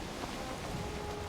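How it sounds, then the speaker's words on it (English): Rain hisses steadily over the sea while sailing in Valheim, a dense even wash of drops with no other sound standing out. "even though it is raining, this isn't considered a storm"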